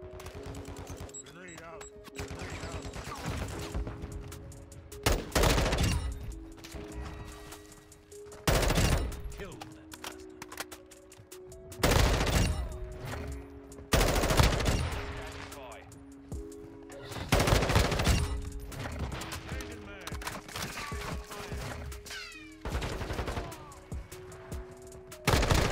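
Bursts of M4 rifle fire in a Modern Warfare 2 match come in repeated loud volleys spread through the stretch, with background game sound between them.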